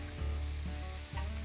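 Cheese is stirred into a hot quesadilla filling in a pan, a soft steady sizzle with a few scraping stirs, close and quiet, with no talking.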